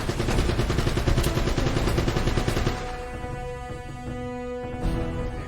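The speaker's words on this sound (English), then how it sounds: "he's got one of those fixed installation guns there" Rapid sustained automatic fire from a fixed mounted gun in an Uncharted video game, loud and close with dense repeating shots for about three seconds, then ringing tonal echoes and a final burst.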